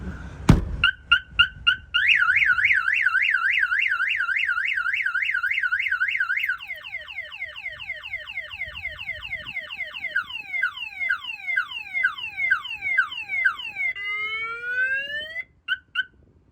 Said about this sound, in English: That will fire off the alarm, and I'm gonna let it ring, and you'll hear the alert come in.